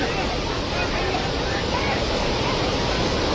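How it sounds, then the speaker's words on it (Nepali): A flooded river in Nepal rushes past with a dense, constant roar of churning water. Faint crowd babble blends into the noise. "खोला कत्रो आएर है"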